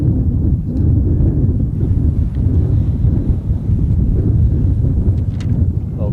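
Strong wind buffeting the microphone outdoors at an airfield during a model aircraft flying competition, a steady low rumbling roar that continues throughout with no talk.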